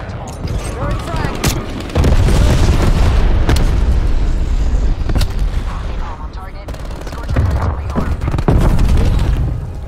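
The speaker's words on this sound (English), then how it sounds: "Throwing frag." A frag grenade explodes in a first-person shooter game, a loud booming blast among bursts of gunfire and repeated heavy impacts, with a voice talking over the battle.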